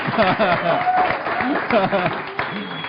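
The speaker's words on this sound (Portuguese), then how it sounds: "Pode aplaudir, gente." A group of students applauds, a dense burst of clapping overlaid with voices talking and calling out throughout.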